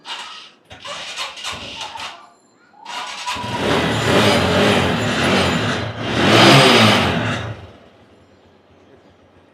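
A 2018 TVS Stryker 125 motorcycle in good condition is cranked in several short bursts, then fires up and idles loudly nearby, revving higher before settling and cutting out.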